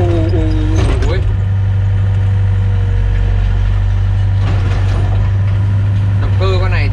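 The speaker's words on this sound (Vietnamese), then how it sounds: "nghe động cơ con này nó hơi ồn" A 2007 Volvo EC55 mini excavator's diesel engine runs steadily, a loud, droning low hum close by that holds throughout while someone talks over it.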